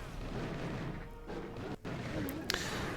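A giant cannon booms repeatedly in a video game battle, heavy impacts landing amid dense, continuous battle noise, with a sharp crack near the end.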